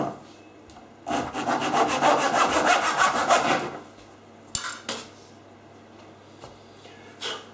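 Close rhythmic rasping of sandpaper on a wooden dowel for a few seconds, followed by a couple of light knocks and handling sounds.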